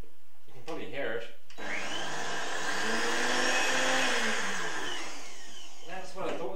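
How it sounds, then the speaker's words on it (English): A blender whirs chia pudding in a loud, steady roar lasting several seconds, with a person talking briefly before and after it runs. "I hope you guys can see the blender over there. Can you see the blender? You can probably hear it."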